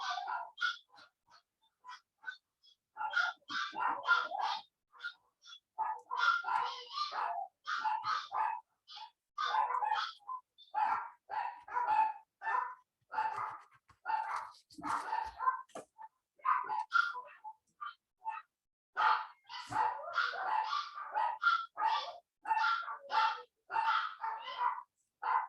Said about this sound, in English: Little barky dogs, that is.